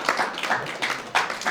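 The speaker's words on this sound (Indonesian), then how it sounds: "Sudah selesai, tepuk tangan dulu buat Pak Budi." Sparse, uneven clapping from an audience at a spiritual gathering, a few bursts of claps with short gaps between them, moderately close and alone without talk.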